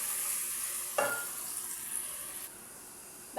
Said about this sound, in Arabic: هنا عندنا زيت ساخن، نضيف البصل نقلبه حتى يتحمر